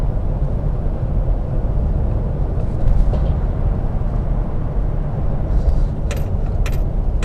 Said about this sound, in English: We're gonna let go of the throttle, let it coast.